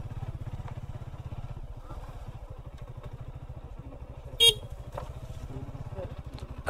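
A motorcycle rides along a trail, its engine a steady rumbling putter running continuously and fairly close, with a brief sharp horn-like toot partway through and light clatter from the rough ground.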